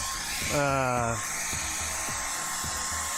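A blow dryer hums steadily close by while drying thick paint, its whir running throughout under a short burst of talk.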